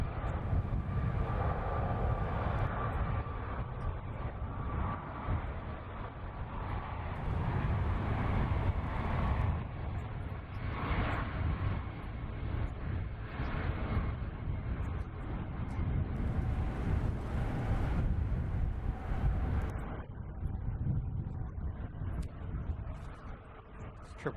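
A Delta Airlines Boeing 767 from JFK arrives at San Francisco Airport. Its jet engines make a continuous broad roar that swells and eases at a moderate distance, with no talk over it.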